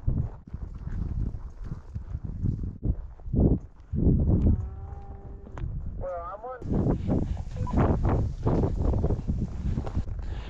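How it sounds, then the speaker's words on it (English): Hooves of a herd of cows thud and clatter across mountain ground, mixed with mooing and a few brief calls. The sounds come close and in uneven bursts, with someone speaking at times. "there's just a ton of cows scattered through here."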